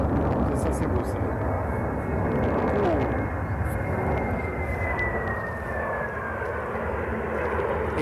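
Engines of an Airbus A380 in flight, seen on its first flight, throttling up into a sustained roaring drone with a rising whine, heard from the ground beneath people talking.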